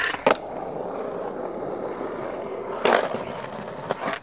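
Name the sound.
skateboard trucks rolling with tinny sound, forged base plates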